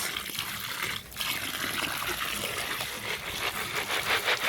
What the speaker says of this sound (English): You shake it again vigorously so that the dirt will go out.